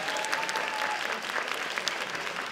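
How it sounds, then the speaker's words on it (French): Steady applause from a crowd at a cosplay contest as the jury is introduced, a dense wash of claps at moderate distance with no talk over it. "un tonnerre d'applaudissements pour nos jurys"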